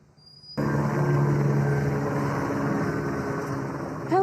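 Police helicopters circle over the Pico-Robertson neighborhood in a search, their steady rotor and engine drone loud and continuous after a sudden onset, with no voices over it.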